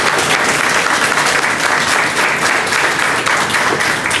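An audience at a small business week press conference breaks into steady, dense applause, loud and continuous throughout, with a crowd murmur underneath.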